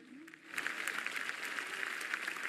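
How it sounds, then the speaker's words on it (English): An audience claps through a steady wash of applause at a live Maha Shivratri cultural performance of Indian classical music, moderately loud with no voices over it. "Please give them a round of applause,"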